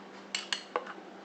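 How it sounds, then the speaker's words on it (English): A metal spoon clinks faintly against dishes three times in quick succession in a quiet kitchen. "Let me get a spoon."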